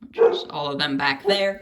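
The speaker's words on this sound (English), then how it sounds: "Sorry for my dog barking" A dog barks and yips in the background of a room, its short bursts partly masked by someone talking steadily over it.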